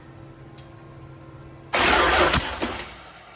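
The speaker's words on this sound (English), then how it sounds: "Have someone bump your ignition over for you." After a quiet stretch, a Mopar 500 stroker V8 engine suddenly cranks over on the starter with a loud, rough burst, then the noise fades out within a second or two.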